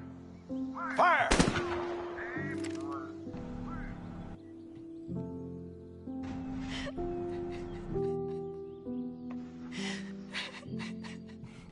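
Firing-squad gunfire in the video game A Way Out: a sharp, loud volley cracks out early, then scattered lighter shots and bursts follow amid shouts and game music.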